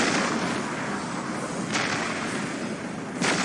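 Orc artillery in Warhammer 40,000: Dawn of War rumbles in a steady loud roar of battle noise, with two sharp booming blasts standing out over the din and no voices heard.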